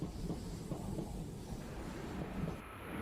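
A Shinkansen E8 series high-speed train, built for a top speed of 300 km/h and serving the Yamagata region, produces a steady, loud, broadband rumble with rushing wind noise that continues unbroken throughout.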